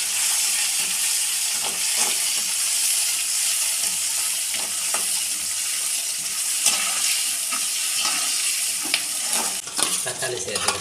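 Finely chopped onion sizzles and fries in hot oil with cumin seeds for brinjal gothsu, a steady close crackling hiss with occasional stirring scrapes and no talking.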